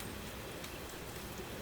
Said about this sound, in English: The rain outside is steadier now,